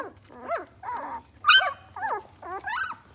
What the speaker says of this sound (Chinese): 现在会汪汪叫了